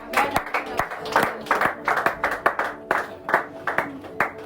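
A church congregation claps along in a steady, rhythmic beat, loud and close, with singing or voices running underneath the claps.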